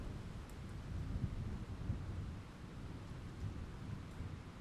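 Steady rain pours down in a cartoon scene, with low rumbles of thunder rolling beneath the constant wash of noise; no voices are heard.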